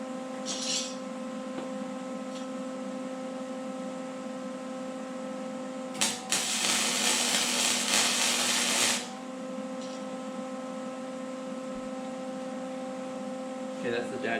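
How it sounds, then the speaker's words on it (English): Welding on a cafe racer seat hoop: a bright crackling buzz lasting about three seconds over a constant electrical hum, with brief clicks before and after, close by and without speech. "I'll go ahead and throw my weld on"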